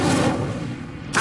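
Incendio fire spell cast in Hogwarts Legacy, a short booming burst with a crackling rush that fades, then a fresh sharp hit at the end.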